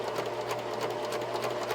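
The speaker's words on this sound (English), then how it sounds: "So I've got my sewing machine set to a zigzag stitch" A sewing machine set to zigzag stitch runs steadily over the scalloped edge of lace, a rapid even mechanical chatter with a low motor hum, close and continuous without pause.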